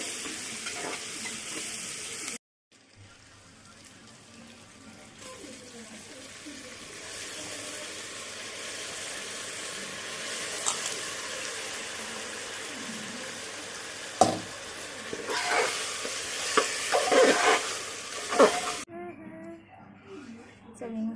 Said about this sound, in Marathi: हळद, शेंगदाणा जरा मिक्स करून घ्यायचं।